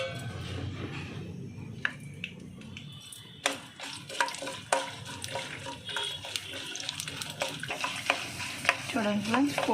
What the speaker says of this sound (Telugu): ఫ్రెండ్స్, పోపులు వేగుతున్నాయండి.